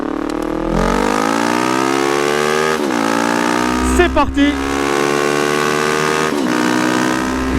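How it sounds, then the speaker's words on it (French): A 2001 Kawasaki ER5 twin-cylinder motorcycle roars loudly and close, its engine pitch climbing through the revs, dropping at gear changes and climbing again, with a brief spoken phrase near the start. "Le bicylindre de la Kawa rugissante"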